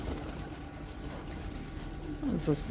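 Soft pigeon coos sound close by near the end, over a quiet outdoor background where pigeons are fed sunflower seeds.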